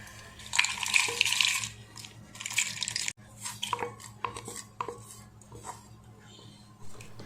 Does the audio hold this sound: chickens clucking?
no